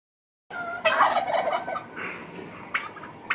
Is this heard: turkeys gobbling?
yes